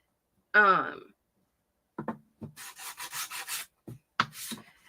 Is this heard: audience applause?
no